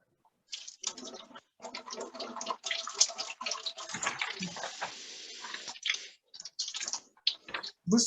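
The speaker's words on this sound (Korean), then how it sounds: "물소리가 되게 많이 나죠." Running water splashes and gurgles in irregular close bursts with short gaps, faint and uneven, like water from a tap hitting a basin or tub.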